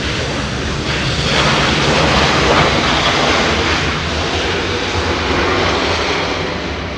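Airbus A321 jet airliner at Los Angeles International Airport: loud, continuous roar of jet engines that swells slightly and holds steady, close and dominant, no talking.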